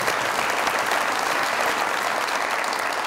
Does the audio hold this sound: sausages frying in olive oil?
no